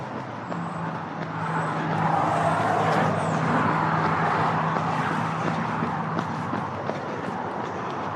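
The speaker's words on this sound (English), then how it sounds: "But the traffic noise doesn't sound as bad on the recording as it does to us." Steady road traffic roars past on a busy street during an outdoor run, a continuous broadband wash of passing cars with faint birdsong high above, moderately loud and unbroken.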